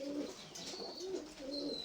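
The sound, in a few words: pigeons cooing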